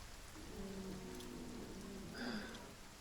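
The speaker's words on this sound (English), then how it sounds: "It's raining." Steady rain falls in Monster Hunter World as a soft, even hiss of drops on surfaces. It stays constant and fairly quiet for a few seconds with no voices.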